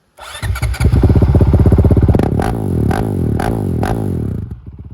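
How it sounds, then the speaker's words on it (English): A Honda CRF450L dirt bike engine cranks and fires up, then settles into a loud, rapid, popping exhaust idle with a few quick blips before cutting off. "So we'll start her up real quick so you guys can hear the exhaust."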